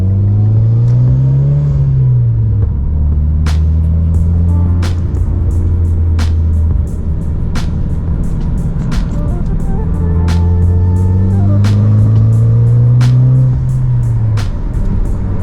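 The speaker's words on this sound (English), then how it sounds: "It was still super freaking lean, like really lean under wide open throttle." A car engine running lean at wide open throttle, a loud steady drone with rising and falling revs, sharp periodic clicks or pops across the top, no talk.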